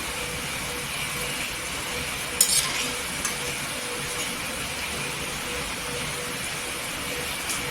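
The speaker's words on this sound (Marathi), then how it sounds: "इथे पूर्णपणे भजी फ्राय झालेली आहे" Besan pakoda (bhaji) frying in hot oil gives a steady, even sizzle close by, with a brief utensil clink now and then.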